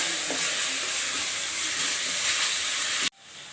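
Spiced masala for Rajasthani gatta curry fries hard in oil, giving a loud, continuous hissing sizzle that cuts off abruptly near the end.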